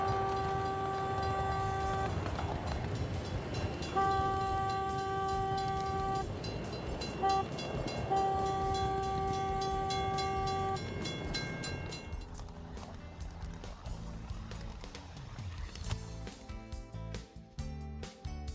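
Steam engine train horn in a video game, sounding a crossing signal of long and short blasts with a rumbling train underneath, followed by the train noise continuing after the whistle stops.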